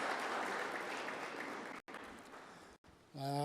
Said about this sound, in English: Let's give a round of applause again to our first speaker.